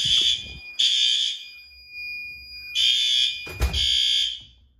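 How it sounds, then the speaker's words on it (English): Two fire alarm horn strobes in a newly fitted shed building sound together in sync, with loud repeated horn blasts and brief gaps between them, then a thump near the end. "There, you can hear both of them in sync."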